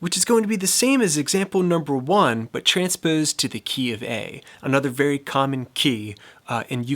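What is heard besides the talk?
None of the usual background noises is heard.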